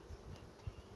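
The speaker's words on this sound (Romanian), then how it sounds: "iată această agitație a coloniilor de albine" Honeybee colonies buzz at a hive during beekeeping care of swarms, a faint, steady hum with a soft pulse partway through and no voices.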